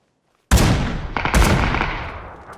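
Gunfire in the battle royale game PUBG: a loud shot breaks the silence, then a second burst follows about a second later, both ringing out and fading with a long echoing tail. No voices are heard.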